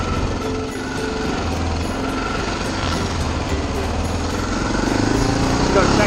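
An Army Harley motorcycle rides on the street, its engine a steady, loud rumble throughout with road and wind noise, while people talk over it.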